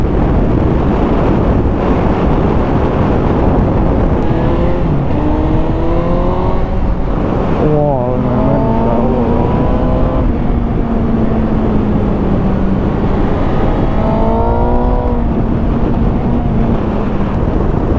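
A 2019 Suzuki GSX-S 750 motorcycle engine pulls hard while riding, loud and continuous, its rising and falling harmonic whine sweeping through gear changes under heavy buffeting wind noise.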